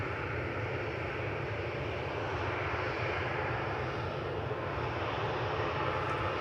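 Aircraft descending toward Manchester Airport on a flight to Alicante, its engines giving a loud, continuous broadband roar that stays constant across the whole stretch with no talk.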